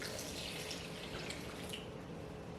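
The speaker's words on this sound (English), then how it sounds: "So I have a liter of water. I'll start mixing it gradually." Warm water, about a liter, pours steadily into a bowl of sugar-sweetened Nigerian puff puff dough mixture, a continuous close splashing trickle without pause and with no talking.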